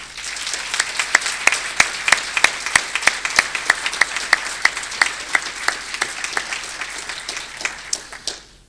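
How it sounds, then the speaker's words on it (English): A crowd at a Hall of Fame award ceremony applauds steadily for several seconds with sharp, distinct claps, then the applause fades out at the end. "give another applause and recognition for our wonderful recipients today"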